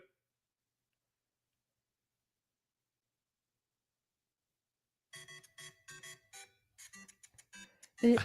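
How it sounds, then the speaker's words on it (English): A phone plays a text-message ringtone: a quick run of short bright electronic tones, fairly close and clear, that starts after a long silence and ends in a louder burst. "Here, look at my text ringtone."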